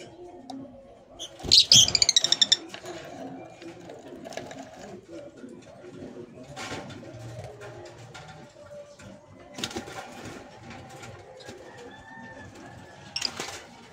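Lovebirds in a home aviary give soft chirps and cooing calls, with a brief burst of sharp high chatter early on and scattered faint peeps after, while someone speaks quietly through much of it.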